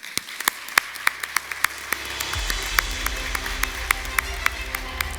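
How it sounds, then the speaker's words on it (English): A round of applause from a conference audience thanking a panel, distinct sharp claps at first that thicken into steady, fairly soft clapping across the room with a low hum underneath. "I would ask the audience that we share a round of applause for all of the excellent insights that you shared with us today"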